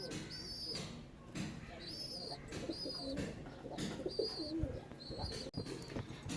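Pigeons sick with pox coo repeatedly in soft, rolling bursts close by, several calls in a loose rhythm, with rustling and low background noise underneath.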